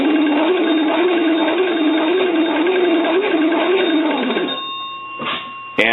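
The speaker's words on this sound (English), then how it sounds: "I want to go ahead and crank the bell." The magneto bell of a hand-cranked Kellogg wooden wall telephone rings continuously in a loud, rapid rattling trill for several seconds, then stops, followed by a faint clunk.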